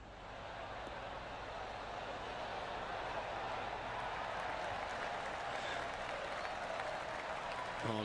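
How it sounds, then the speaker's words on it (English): Polite applause from a video game golf gallery in PGA Tour 2K23 after a shot at the 17th hole, a steady, even patter of many hands lasting several seconds, with faint ambient noise. "Oh, golf clap."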